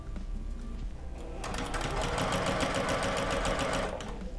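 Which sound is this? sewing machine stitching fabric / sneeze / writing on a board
sewing machine stitching fabric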